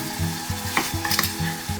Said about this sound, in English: All that ghee is melting down with some garlic.